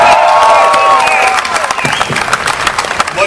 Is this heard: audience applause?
yes